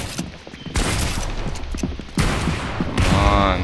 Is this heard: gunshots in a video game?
yes